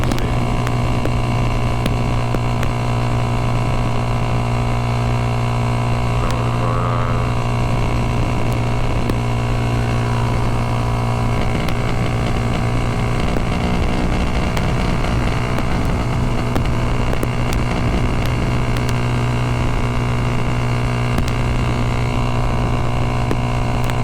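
A Kawasaki ZX6R sport motorcycle cruises at steady highway speed, its engine holding a constant drone under heavy wind rush buffeting the microphone throughout, loud and continuous with no talking.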